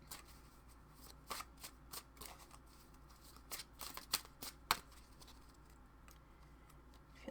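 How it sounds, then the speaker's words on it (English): Oracle cards are shuffled by hand in quick, irregular bursts of crisp flicks and riffles, close and quiet, with no talking. "What else do we have with our oracle cards?"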